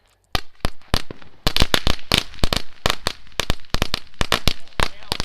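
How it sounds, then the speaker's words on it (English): A pack of firecrackers goes off in a rapid, irregular string of sharp loud cracks and pops, close by, with brief voices in the gaps. "we're blowing out firecrackers again"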